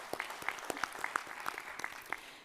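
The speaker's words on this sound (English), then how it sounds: "Let's just honor that with a hand clap." A few people at an agriculture summit give a brief, quiet round of hand claps, with distinct individual claps heard as a loose, uneven rhythm.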